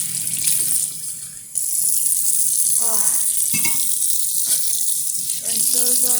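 Water runs steadily from a kitchen tap while dishes smeared with mashed potato are rinsed, a continuous close splashing hiss with a brief dip near the start and a voice speaking over it.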